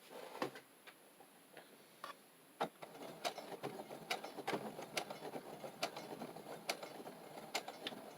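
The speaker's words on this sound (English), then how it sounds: "Do a few locking stitches." Sewing machine stitching fabric binding onto a junk journal cover, a steady mechanical whir with repeated sharp clicks and ticks at close range, running alone without talk.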